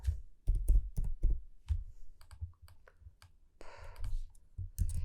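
Computer keyboard keys clicking in quick irregular bursts with brief pauses, close and fairly quiet, while files are organised for a Photoshop flyer design.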